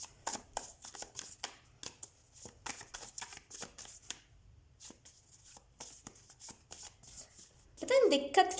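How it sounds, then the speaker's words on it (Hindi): Tarot cards being shuffled by hand, a rapid series of crisp riffling and flicking bursts with short pauses between, fairly close and clear, followed by a louder handling clatter at the end. "शफल कर लेते हैं आपके लिए स्कॉर्पियो।"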